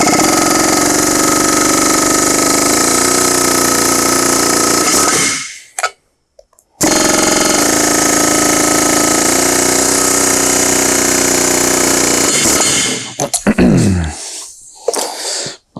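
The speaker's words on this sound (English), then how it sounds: "We will grab our air hammer, drive them flush." Pneumatic air hammer driving roll pins flush while installing a Calmer upgrade kit on a John Deere 40 or 90 series corn head, a loud continuous chattering hammer running for several seconds, breaking off briefly, then resuming before tapering off.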